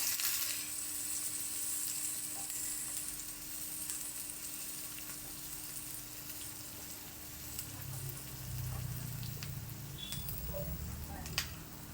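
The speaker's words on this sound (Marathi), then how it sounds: "कांदा मस्त परतून घेऊ।" Onions frying in a pan while making masala egg fry, a close, continuous sizzle with occasional crackles and a light stir near the end.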